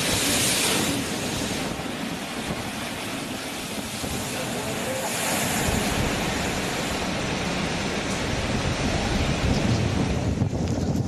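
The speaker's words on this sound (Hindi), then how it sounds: "80 से 200 किलोमीटर प्रति घंटे की रफ्तार से चलती हुई तेज हवाएं मानो अपने रास्ते में आने वाली हर चीज को साथ उड़ा ले जाने की जिद पर अड़ी थी।" Cyclone Amphan's strong winds and crashing waves make a constant, loud, broadband roar of gusting wind and surf with buffeting on the microphone, continuing without a break from start to finish.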